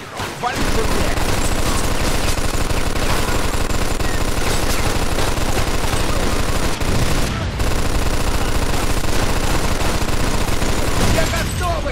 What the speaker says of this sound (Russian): Хватит уже палить! Я и так оглох наполовину!